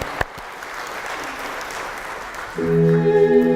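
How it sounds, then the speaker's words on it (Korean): A church congregation at a Korean worship and praise seminar gives a dense burst of applause of thanks, then instrumental worship music comes in. "우리 하나님께 한번 감사의 박수 시작해 보겠습니다"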